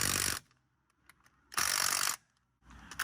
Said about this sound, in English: I just need to put the wheel back on and torque the wheel bolts up.